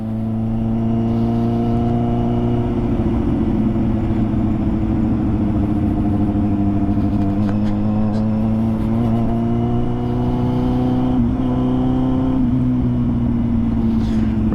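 A Kawasaki Z800 motorcycle engine drones steadily up close, its pitch gently rising and falling as the touchy throttle shifts during the ride.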